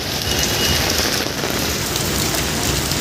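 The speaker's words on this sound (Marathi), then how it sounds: "आता पाऊस बघा अजून थांबला नाही" Heavy rain pours continuously and loudly, a dense, even hiss of drops hitting surfaces nearby, with no voices.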